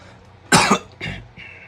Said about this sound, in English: Forgive me for the cough, sorry about that.